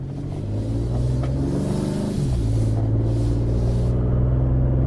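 A 2017-2018 Ford F-150 Raptor engine with its fake exhaust sound deleted, revving steadily and loudly up close with a deep rumble that rises in pitch partway through; no talking.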